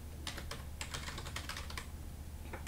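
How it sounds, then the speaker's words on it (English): Fast typing on a computer keyboard, close and steady, with irregular bursts of key clicks and no talking. "Type in whatever you want, and just put it around the center of the image."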